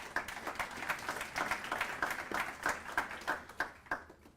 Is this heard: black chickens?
no